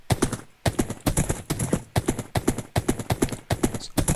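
Horse hooves in the Minecraft video game clip-clop in a quick, even rhythm, close and clear, repeating for several seconds with no talking.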